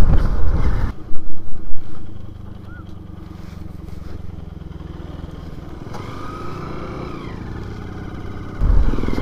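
A scooter riding along a road with friends gives a steady, close engine drone with wind rumble, rising louder near the start and end, and no talk over it.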